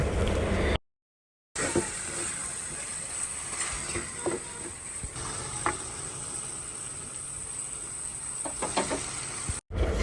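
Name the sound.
beef and taro cooking in a pan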